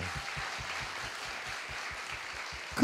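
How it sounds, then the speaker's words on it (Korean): Studio audience applause on a Korean talk show, a steady wash of many hands clapping, moderately loud and continuous for the whole stretch with no voices over it. "박수 한번 주세요."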